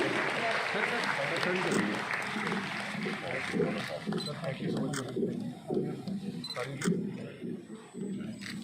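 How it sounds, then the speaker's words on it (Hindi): An audience at a cooperative week celebration claps, a dense wash of applause that thins into scattered claps, with a voice speaking over it. "प्रोत्साहन के लिए जोरदार तालियां बजाते रहिए।"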